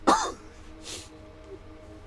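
A streamer gives one sharp, close cough or throat-clear at the start, then a softer second burst a moment later over quiet background hum.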